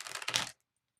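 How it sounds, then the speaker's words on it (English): Tarot cards are shuffled in a quick, crisp half-second burst of papery riffling, close up, followed by silence. "So I'm going to shuffle for you really quick"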